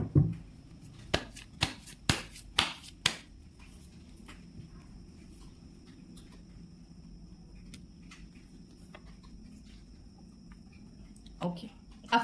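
Tarot cards are shuffled and drawn, with a quick cluster of sharp card slaps and riffles at the start, then quiet handling, with another shuffle toward the end.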